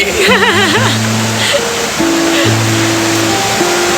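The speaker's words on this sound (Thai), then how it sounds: "ริมลำธารน้ำตก น้ำตกปะนะ น้ำแบบใสมาก" A waterfall and clear stream beside a cafe in Chiang Mai roar as a steady, loud rush of water close by, with people speaking and a few tonal sounds over it.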